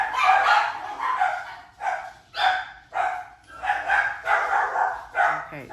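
Dogs barking repeatedly and loudly nearby in a run of sharp, closely spaced barks with brief pauses, heard without any talk.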